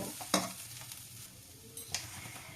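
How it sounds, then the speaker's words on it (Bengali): Spice masala for cauliflower paratha stuffing, flavoured with amchur powder, stirs and sizzles in a pan, with two sharp spoon scrapes over a low steady fry. "মশলাটা প্রায় আমার ভাজা হয়ে এসছে।"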